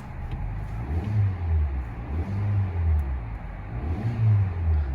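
A 2014 Hyundai Elantra Limited engine idles quietly and steadily with slow, gentle swells in its low hum, heard up close with no voices.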